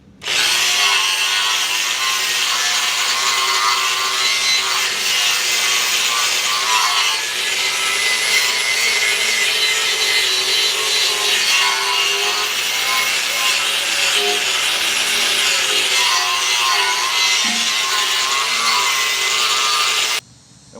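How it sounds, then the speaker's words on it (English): Small angle grinder fitted with a wire cup brush scouring rust off a metal smoker frame, a loud, continuous high whirring scrape that holds steady for about twenty seconds before cutting off. "what I'm going to use is my little angle grinder with this cup brush I got on here"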